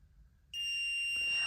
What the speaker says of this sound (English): I'm hitting metal. That's what you're hearing, that beeping.